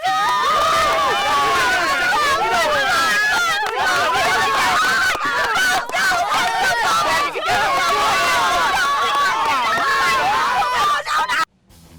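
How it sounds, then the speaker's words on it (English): Staged crowd noise for a film scene: a dense, loud hubbub of many overlapping voices chattering and calling out continuously, ending abruptly near the close. "First, the crowd noise."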